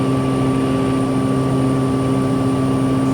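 A Pratt & Whitney PT6A-135 turboprop rated at 750 horsepower drones steadily in climb, a loud constant hum with even tonal lines and no break.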